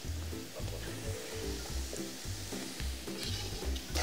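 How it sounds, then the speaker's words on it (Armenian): Garlic sizzles steadily in hot oil in a pan, a close, dense crackle with stirring bumps at a regular rhythm throughout, and no voices. "Թեթև տապակում"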